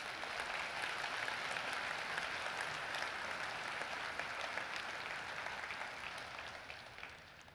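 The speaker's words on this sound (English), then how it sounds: "please give me a big round of applause for the folks in the room and online" Steady applause from a keynote audience fills the room at an even level, a dense wash of clapping with no talk, tapering slightly toward the end.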